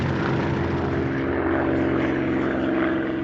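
A propeller-driven aircraft drones steadily and loudly with a constant, even engine roar for the whole stretch, with no voices.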